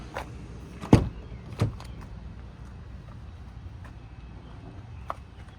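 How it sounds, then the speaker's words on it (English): The side door of a 2017 Ford Transit T350 XL high-roof van with a power fold-out side entry opens with two sharp, loud clunks close by, then a soft click follows over quiet background. "when we open up the door here"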